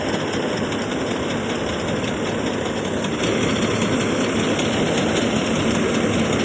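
A paddy harvesting machine's engine runs steadily and loudly up close in a rice field, a constant dense rumble with a slight rise in intensity partway through and no speech.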